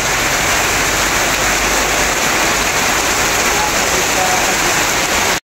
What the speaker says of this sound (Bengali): একেবারে প্রচণ্ড জোরে বৃষ্টিপাত হচ্ছে।